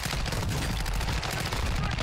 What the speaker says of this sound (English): I hear him shooting, yeah.